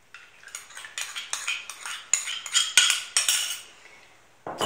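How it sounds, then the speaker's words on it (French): Flour, semolina and salt being mixed by hand in a bowl for stuffed chicken batbout dough, with a close run of light scraping, rubbing and soft clinking strokes in an uneven rhythm, no voices. "mettre la farine, la semoule et le sel, puis mélanger le tout à la main"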